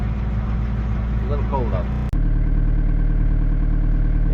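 A car engine idles steadily and close by on a cold day, a constant low hum with a single short dropout midway, while a person speaks briefly over it.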